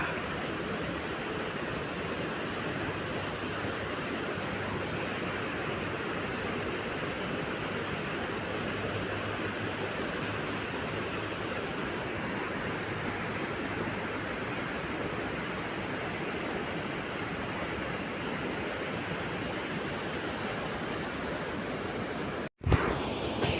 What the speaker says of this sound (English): Beautiful sound of the river.